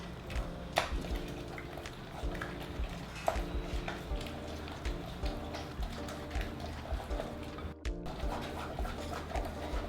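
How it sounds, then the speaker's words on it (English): Karpatka cake dough being mixed in a bowl after adding a second egg: steady scraping and stirring strokes, close and fairly quiet, with faint kitchen hum beneath. "you're going to add your second egg and mix everything one more time"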